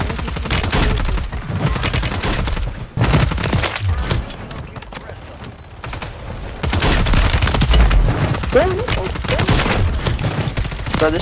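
Heavy gunfire in Call of Duty Warzone on Rebirth Island, with dense SMG bursts, a few booms and breaking sounds, loud throughout with short lulls between volleys.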